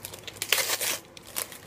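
Wrapping paper crinkling and tearing as birthday presents are unwrapped, a short close burst of rustles and rips in a quiet room.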